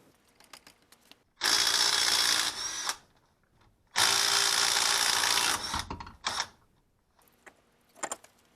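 A power tool, likely an impact wrench, removes a wheel from a PT Cruiser, with two sustained loud bursts of whirring and rattling and a short third one, separated by quiet clicks and handling noises.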